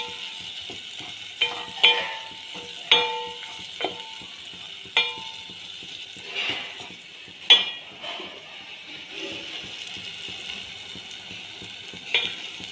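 Garam masala and other spices fry in hot oil for a potato bhaji, with a soft continuous sizzle broken by several sharp metal clinks and scrapes of a spoon against the pan, close up and without speech.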